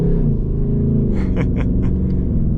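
The V8 engine of a 2025 Ford Mustang GT rumbling in a deep, steady idle, the low throb close and continuous, with a few faint higher ticks riding on top.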